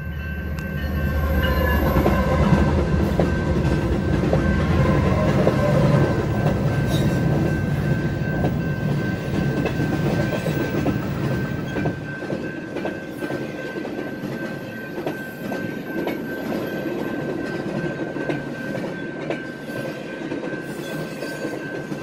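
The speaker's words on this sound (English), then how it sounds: "Looks like it's a stack train coming." A long BNSF intermodal double-stack freight train rolls past steadily, wheels clacking and squealing faintly over the rumble, fairly close throughout with no voices.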